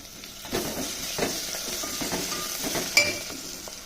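Chili powder, turmeric, cumin and coriander powder sizzling in hot oil in a pan, a steady fry hiss with repeated close spatula scrapes and a sharp clink near the end.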